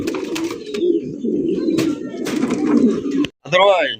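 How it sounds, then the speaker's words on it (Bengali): Black-coloured pigeons at a breeding farm coo repeatedly in low, throaty rolling calls close by, with someone talking over them and a brief pause near the end. "কালারিং রাসগোল্লা কবুতর ব্ল্যাক কালার মধ্যে"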